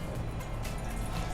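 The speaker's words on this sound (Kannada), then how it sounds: "ಇದಕ್ಕೊಂದು ಅರ್ಧ ಗ್ಲಾಸ್ ನೀರು ಹಾಕೊಳ್ಬೇಕು" Half a glass of water poured into a small pot on a gas stove while making sabja (basil seed) panaka, a steady, close liquid rush filling the whole moment without any talk.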